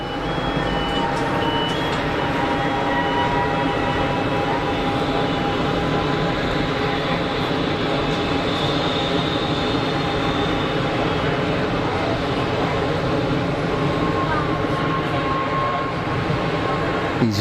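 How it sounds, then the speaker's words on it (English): An easyJet A320neo-family airliner at Geneva Airport produces a constant loud engine drone with whining tones from nearby, unchanging throughout as it sits on the taxiway. "easyJet Neo."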